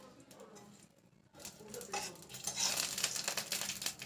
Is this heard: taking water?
no